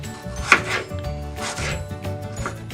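A knife cuts thin apple slices for a plant-based apple pie, with a few soft chops against the board at an uneven rhythm.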